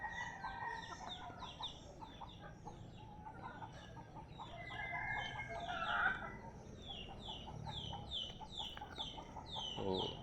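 Backyard chickens cluck and chatter busily close by while a rooster crows, with repeated short clucks and calls layered over a low outdoor background, no talking heard.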